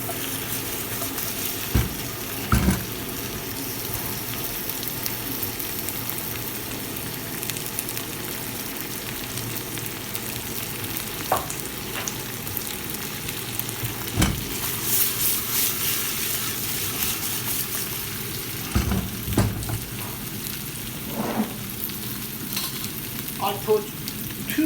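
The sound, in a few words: chicken thighs frying and being tossed in a pot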